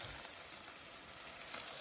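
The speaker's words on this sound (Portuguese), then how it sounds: "Calabresa já tá quase fritinha." Calabresa sausage fries in a pan at a cold-weather campsite in Campos do Jordão, a continuous soft sizzle and crackle holding steady without speech.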